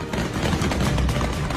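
Short burst of rapid gunfire in Kabul, loud and dense, shots blurring into a continuous rattle.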